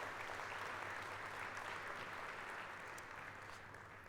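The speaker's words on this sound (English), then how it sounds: "You may give them a round of applause." Faint, steady applause from an audience at a motoring consumer awards ceremony, a continuous wash of clapping that holds evenly for several seconds with no voices over it.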